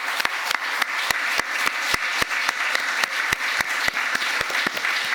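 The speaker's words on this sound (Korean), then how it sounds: "우리에게 2024년 새날을 주신 하나님께 영광의 박수 올려드립니다" A church congregation at a New Year's Eve service claps in unison, sharp rhythmic beats landing at a steady pulse over a bed of scattered applause, loud and close without speech.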